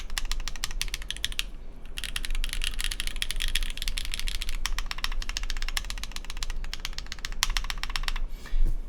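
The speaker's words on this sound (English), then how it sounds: "At least most standalone aluminum numpads kind of sound like this actually." Fast, continuous typing on a KBDfans Tofu Pad aluminum numpad, a dense, loud stream of crisp clacks with only brief gaps, recorded close up.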